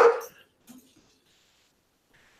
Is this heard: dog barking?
yes